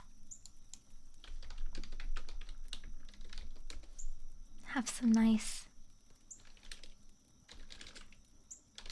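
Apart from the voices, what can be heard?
typing on a fancy gamer keyboard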